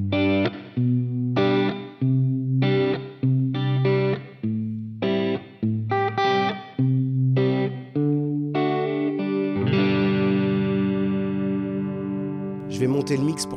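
Electric guitar played through a Universal Audio UAFX reverb pedal with short decay, modulation and pre-delay, a series of chopped chord stabs with brief tails, then a sustained, shimmering chord near the end.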